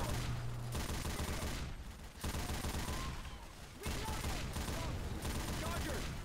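Heavy mounted guns in Left 4 Dead 2 fire in dense, sustained bursts, loud and close, broken by brief pauses, with players talking over the gunfire.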